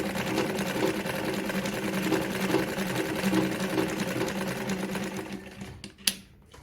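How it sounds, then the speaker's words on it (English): Victoria Deltmod model 235 sewing machine sewing a fine zigzag stitch, running steadily and close by with a soft rhythmic pulse, then slowing to a stop with a click. "I'm gonna sew through the zigzag stitch"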